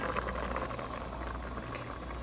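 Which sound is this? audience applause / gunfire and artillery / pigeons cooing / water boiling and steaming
water boiling and steaming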